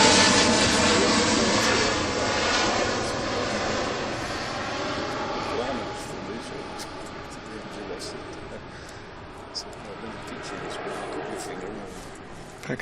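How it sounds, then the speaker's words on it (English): A Pegasus Airbus A321neo jet gives a loud broadband roar that slowly fades as it moves away, with a faint engine whine lingering. "Pegasus destination Istanbul, A321 Neo."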